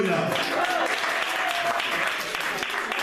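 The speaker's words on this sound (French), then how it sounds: "Acclamez pour Gloria." A church congregation at a Sunday service claps in sustained, dense applause filling the room, with voices mixed into the crowd noise throughout.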